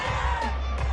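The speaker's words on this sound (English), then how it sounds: "Well, the crowd doesn't like that." Stadium crowd noise from a Madden football video game, a sustained roar of many voices reacting to a penalty flag on third down, steady and loud throughout with no clear talk on top.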